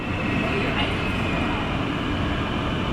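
Interior rumble of a modern Dutch passenger train on the way to Breda, Netherlands, a steady broadband roar with rail noise and faint background chatter, continuous and close.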